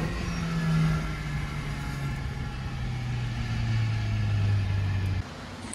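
A boosted Mazda Miata engine drones loudly from close by, its pitch sagging and then climbing under load before the level drops sharply near the end; no one speaks.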